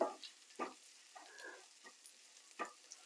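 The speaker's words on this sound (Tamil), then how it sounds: "அதுக்காக நான் வந்து இப்போ போட்டு வதக்கி கொள்கிறேன்" Fenugreek seeds and dried chilies saute in a pan for a Sri Lankan-style bean stir-fry, with soft intermittent sizzles and scraping bursts from a spoon at irregular intervals, quiet and close, no voices.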